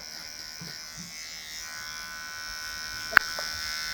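Electric hair clippers buzz steadily at a barbershop while trimming hair around the ear during a classic haircut, a continuous close hum with faint scattered knocks and one sharp click near the end.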